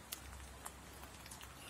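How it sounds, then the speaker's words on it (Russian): Light rain patters steadily with scattered sharper drip ticks, soft and close, over a low constant background hum. "Слышишь, как дождик капает?"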